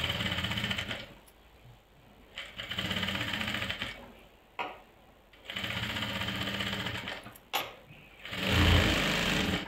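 A sewing machine stitches along a garment neckline in several steady runs of rapid mechanical whirring, pausing briefly between bursts, close and fairly loud, with a low thump near the end.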